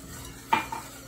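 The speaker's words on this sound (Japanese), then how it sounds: "で、かき混ぜながら流し込みます。" A spoon scrapes and clinks once in a pot as plain milk is poured in and stirred for tiramisu cream, a brief close stroke amid quiet kitchen background.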